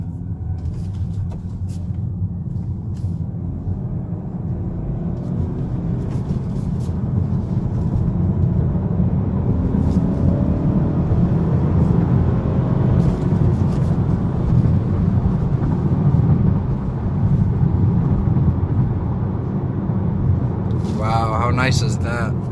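Steady in-cabin road and engine drone from a 2019 Honda Accord Sport 2.0t with a manual transmission, driving continuously at an even level, with some brief higher noises near the end.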